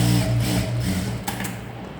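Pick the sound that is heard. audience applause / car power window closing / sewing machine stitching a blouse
sewing machine stitching a blouse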